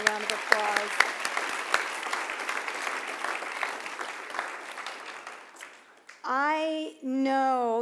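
Audience applause for a speaker at a Transfer Center celebration event, steady and full for about six seconds before fading, then a voice begins speaking.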